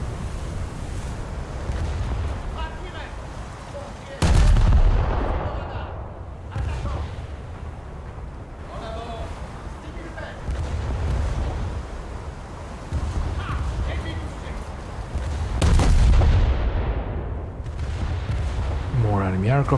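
Naval gun salvos boom out in a World of Warships–style naval battle game, a few heavy broadband blasts standing out among continuous rumbling battle noise, with someone talking intermittently throughout.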